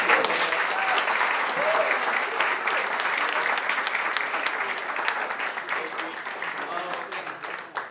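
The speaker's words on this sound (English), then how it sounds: "I just want like everyone give everyone up here a round of applause." A room full of people applauds panelists at an urban community panel event, continuous steady clapping at moderate distance that gradually thins toward the end, with faint voices mixed in.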